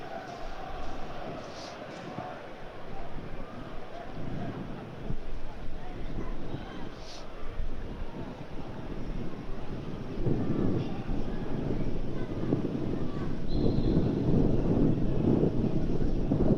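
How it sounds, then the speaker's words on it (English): Wind gusts sweep across an open football stadium during a Sunderland versus Stoke City match, a steady low roar building toward the end, heard with commentary over it. "There's that wind picking up again here in the Stadium of Lights."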